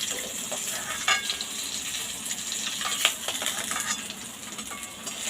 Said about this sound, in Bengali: মাছের মাথাটা পুরো ভাজা হয়ে গেছে, দেখুন দুই দিকেই ভেজে নিয়েছি ভালো করে।